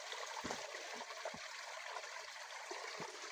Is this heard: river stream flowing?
yes